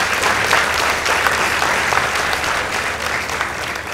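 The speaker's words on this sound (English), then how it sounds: "Let's give them a round of applause." A school debate audience gives a round of applause, loud dense clapping that fills the room steadily from start to finish.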